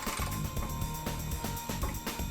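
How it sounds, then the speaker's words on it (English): A torque wrench with a 12mm socket tightens skid plate bolts to 21 foot-pounds on a Toyota Tundra TRD skid plate, giving a steady run of close, crisp ratcheting clicks in a fairly even rhythm. "Using a 12mm socket, we'll set the torque wrench to 21 foot-pounds."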